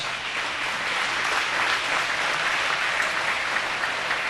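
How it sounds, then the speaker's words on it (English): Steady, dense applause from a crowd at a chamber of commerce annual meeting, clapping continuously at an even level throughout with no voices above it. "let's give them all a round of applause"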